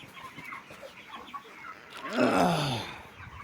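Broiler chickens in a poultry shed cluck softly in the background, then swell into a brief, louder burst of overlapping fowl calls near the end.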